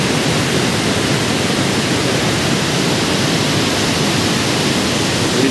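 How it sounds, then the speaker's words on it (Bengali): Daringbari Lodh waterfall with water rushing at high speed, a loud, steady broadband roar that fills the whole stretch without pause, close and unvarying. "প্রচণ্ড স্পিডে আসছে জল এবং আওয়াজটা শুনেই আপনারা বুঝতে পারছেন কতটা স্পিডে আসছে জল"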